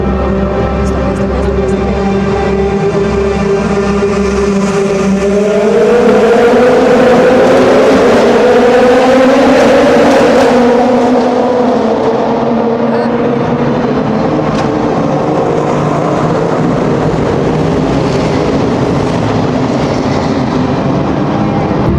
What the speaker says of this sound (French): Et enfin, place au départ de la course de LMS.